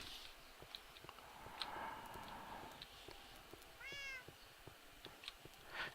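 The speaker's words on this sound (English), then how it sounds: "Found another kitty while I was out and about" A cat in Minecraft gives one short, rising meow partway through, faint against a busy background of clicks and light ambient noise, with no talk.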